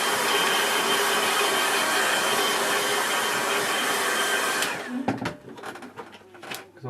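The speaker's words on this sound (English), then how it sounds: "a quick blast with the hairdryer." A hair dryer blows hot air over a wet watercolour painting with a loud, steady whir for about five seconds, then cuts off, leaving faint handling noises.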